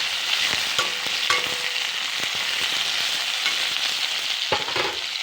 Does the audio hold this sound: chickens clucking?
no